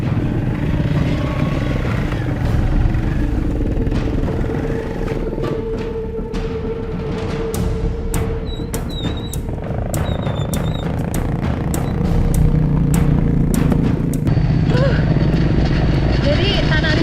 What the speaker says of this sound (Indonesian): Saya pun ingin mencoba merasakan bagaimana susahnya membawa motor dengan melewati jalan